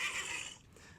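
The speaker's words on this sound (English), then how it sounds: "He's heard a horse neigh, he listens again, the neigh comes for a second time." A horse gives a single whinny that is faint and distant, fading out after about half a second into quiet.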